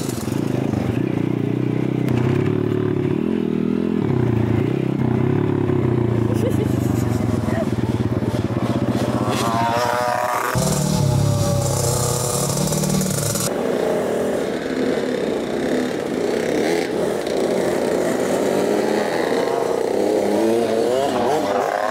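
A motocross bike ridden by a five-year-old child drones and revs loudly throughout, rising and falling with shifting pitch, while voices talk over the engine noise.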